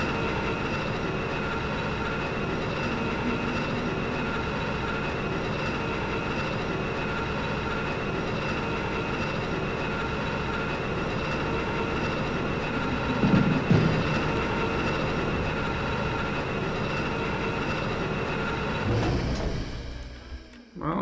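A train cart running on rails in the video game Thief makes a continuous rumbling clatter with a steady tonal hum. A brief scrape comes partway through, and the sound cuts off near the end.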